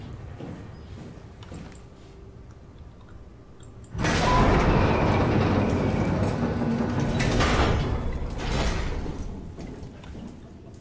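A heavy door slides open in the underwater station of the video game SOMA, a sudden loud mechanical whoosh and rumble that holds for several seconds before easing off, with faint ambient hum before it.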